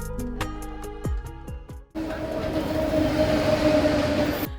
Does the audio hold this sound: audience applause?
no